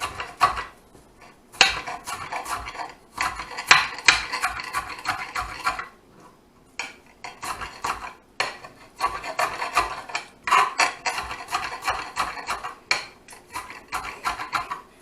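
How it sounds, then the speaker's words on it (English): Knife chopping vegetables and mushrooms on a hard, noisy cutting board in a home kitchen, a steady run of close, sharp clacks in quick bursts with short pauses and no talking. "We're almost finished cutting up our vegetables."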